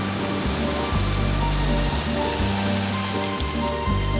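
Rain falling as a dense, loud, continuous patter on surfaces, steady throughout with no voices.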